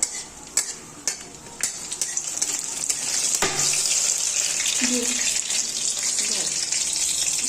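Bay leaf, panch phoron and dried chilli hit hot oil for a bottle gourd kofta curry, with a few clinks and a faucet-like rush at first, then a steady bright sizzle that holds close and loud to the end.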